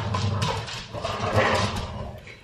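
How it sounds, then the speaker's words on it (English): Dogs growl and grumble playfully up close, rough throaty snarls mixed with snuffling, rising and falling over a couple of seconds. "isn't it funny when dogs play"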